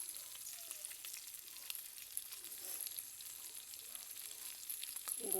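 Faint, steady crackling and sizzling like food frying in oil, with a high hiss running throughout and no talking.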